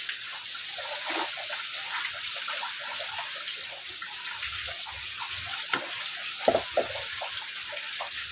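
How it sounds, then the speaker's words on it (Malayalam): Water is poured into a pot of dried prawn theeyal curry cooking with tamarind, a soft, continuous splashing gush lasting several seconds with a few small spatters and no speech. "നമുക്ക് വെള്ളം കൂടെ ഒഴിച്ചു."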